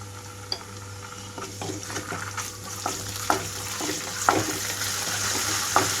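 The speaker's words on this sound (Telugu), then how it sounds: "అల్లం వెల్లుల్లి అంతా పచ్చివాసన పోయే వరకు వేయించుకుంటున్నాను" Onions with ginger and garlic frying in a pan for egg semiya, a continuous close sizzle with a spatula stirring and scraping at irregular intervals throughout.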